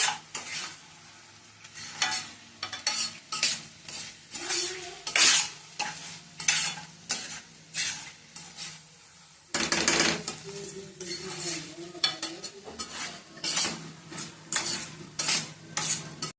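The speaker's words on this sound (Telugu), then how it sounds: "ఇప్పుడు కొంచెం ఫ్లేమ్ పెంచుకున్నాక బాగా ఒకసారి కలిపేసుకున్నాం" Spoon stirring egg curry with fresh curry leaves in a pan over raised flame, a steady rhythm of scraping strokes against the metal under a soft sizzle, close and clear.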